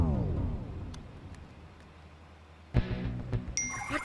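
A phone message notification, a bright electronic ding, chimes once near the end, following a quiet stretch and a few soft clicks, with rustling around it.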